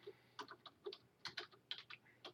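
Quiet, close keystrokes on a computer keyboard while a search is typed into Google, a short irregular patter of light clicks over a faint steady hum.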